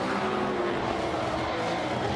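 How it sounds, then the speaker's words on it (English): A drift car at a Formula Drift competition at Road Atlanta sputters and putters out of the horseshoe corner, a steady rough engine drone heard from a distance, continuous for the whole moment. "You could hear Charles Ng's car kind of puttering out of the horseshoe"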